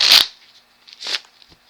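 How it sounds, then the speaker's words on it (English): A deck of cards being shuffled, two quick riffling bursts close by, the first loud and the second softer, with faint card taps between and after them, no voices. "I'm just going to shuffle one out this deck."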